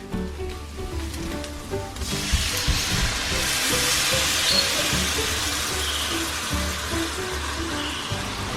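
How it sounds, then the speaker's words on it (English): Water splashes into a pan of browning ground meat seasoned with taco seasoning, a sudden loud rush of pouring that turns into a steady, broad sizzling hiss as the liquid hits the hot pan. "We're gonna add 2/3 water."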